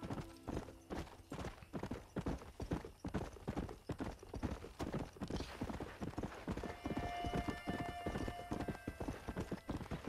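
Rhythmic clip-clop of horse hooves trotting in Red Dead Redemption, loud and close, with a brief whinny partway through and faint electronic tones.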